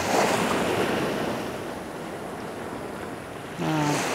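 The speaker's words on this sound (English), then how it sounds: "I love the way that water is swelling up around these rocks" Ocean waves swell and wash around rocks on a beach, a soft continuous surge of water with wind across the microphone, fading a little before a fresh swell rises near the end.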